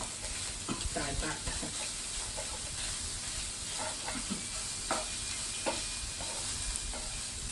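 Shrimp and minced pork sizzling in a hot pan during a stir-fry for Thai basil pad krapow, with a steady hiss broken by scraping stirs and spatter bursts, close and fairly loud.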